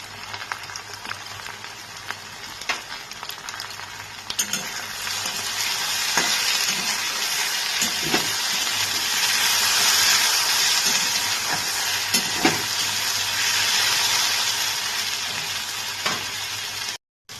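Potatoes fry in a pan with a steady, close sizzle and hiss, punctuated by occasional scrapes and knocks of stirring.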